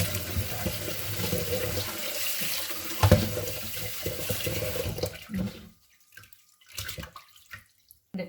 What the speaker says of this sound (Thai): กรอกน้ำดูว่า เขาจะใหญ่ประมาณไหน